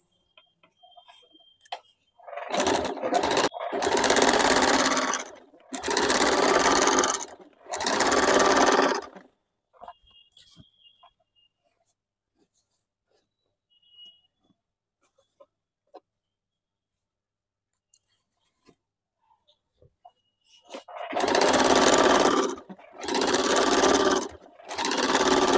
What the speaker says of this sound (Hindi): इसे हम लोग चाप सिलाई चला देंगे।